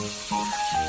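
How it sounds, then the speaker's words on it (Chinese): Chicken stir-fried in a wok with chili bean paste and red oil, giving a steady close sizzling hiss broken by faint scraping clatter as the pieces are tossed. "翻炒至鸡肉定型"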